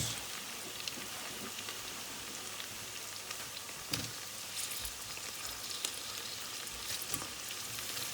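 Chopped tomatoes drop into a pan of frying garlic and ginger for a prawn malai curry and sizzle steadily and fairly loudly, a dense crackling hiss with a few sharper pops, and no talking over it.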